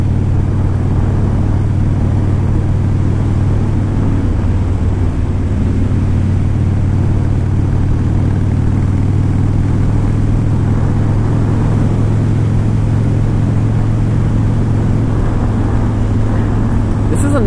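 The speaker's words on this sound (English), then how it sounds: "And the 88 cubic inch motor is a good engine." A 2001 Harley-Davidson Dyna Wide Glide with an 88 cubic inch engine and five-speed gearbox drones steadily while being ridden, a loud low rumble with wind noise throughout as someone talks over it.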